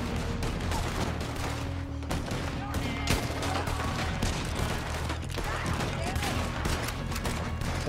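Rapid, dense gunfire from a Gatling gun in Red Dead Redemption 2, a sustained rattling fusillade of overlapping shots with booms and clatter throughout.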